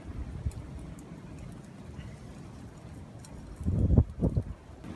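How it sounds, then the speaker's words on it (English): Stormy wind batters a debris shelter camp outdoors, rumbling low and gusting against the microphone. The gusts swell strongest near the end, and no one speaks. "It's blowing a storm out here."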